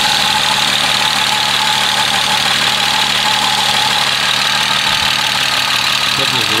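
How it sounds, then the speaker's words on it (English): A BMW E36 engine idles outdoors after a coolant system refresh, a steady loud, even drone with constant vibration and no change in pitch for the whole stretch. "I got the car running outside."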